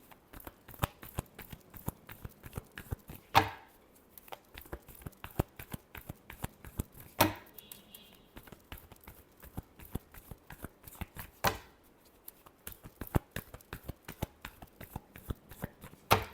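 Tarot cards are shuffled steadily for about sixteen seconds, a dense run of soft, rapid flicks and riffles with a few louder slaps where the deck is squared. The sound is close and quiet, with no voice over it.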